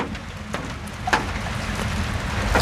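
Steady rain pours down outdoors, a dense broadband hiss that holds at an even level for a few seconds, with a couple of brief sharper knocks and no talking.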